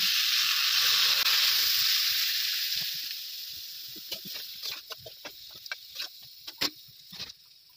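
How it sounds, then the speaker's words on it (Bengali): Water poured into a pan of fried pui mituli (Malabar spinach) and vegetables sets off a loud, steady hiss that fades over a few seconds. Scattered crackles and pops follow, with a faint rooster cluck in the background. "এবার সেদ্ধ হওয়ার জন্য জল দিয়ে দিচ্ছি"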